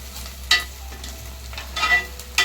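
Onions frying in a pan with salt are stirred, giving a faint steady sizzle broken by a few brief scraping strokes of the spoon against the pan.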